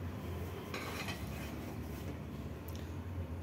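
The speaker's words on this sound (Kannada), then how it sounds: "ಒಂದು ಕುಕ್ಕರ್ ಇಟ್ಕೊಡೋಣ." A pressure cooker set down on a stove, giving a couple of brief metallic clinks and scrapes of pot on burner against a steady low kitchen hum.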